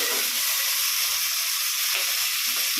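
Onions and mint leaves fry in a pan for mutton biryani, giving a loud, dense, continuous sizzle with faint stirring scrapes underneath.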